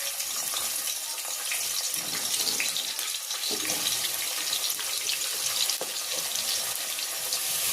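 Chopped onions fry in hot oil for a Telangana-style mutton curry, giving a dense, steady hiss and crackle that sounds almost like running water, constant and close for the whole stretch.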